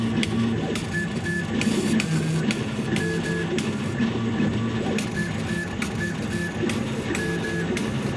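A laser engraver runs a high-frequency impact engraving program, giving a continuous mechanical buzz with rapid rhythmic ticking and short tonal beeps that repeat at intervals, steady and fairly close.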